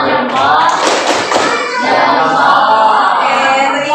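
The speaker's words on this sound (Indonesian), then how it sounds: "Tepuk jempol." An audience performs a rhythmic thumb clap, quick close taps and thumps from many hands with a few voices mixed in, continuing through the whole moment.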